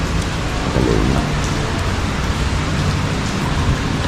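Steady heavy rain falls outdoors, a dense continuous wash of drops on surfaces with a low rumble underneath, loud and unbroken throughout.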